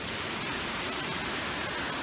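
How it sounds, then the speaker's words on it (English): Ganllwyd (Rhaeadr) waterfall in Wales gives off a brief, continuous hiss of falling water, an even broadband rush heard from close by with no other sounds standing out. "Oh, I do love a waterfall."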